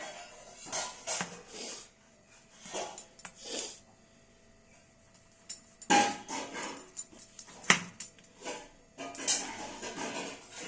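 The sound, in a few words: knife chopping tomato on cutting board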